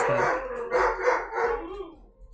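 Several dogs bark and howl at home in overlapping, wavering bursts, loud and close, with a few rising and falling howls and no speech.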